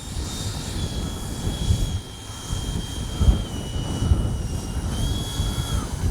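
A Freewing 90mm T-45 Goshawk RC jet flying on a windy day, its steady turbine roar and whine carrying on without a break, moderately loud with wind buffeting underneath.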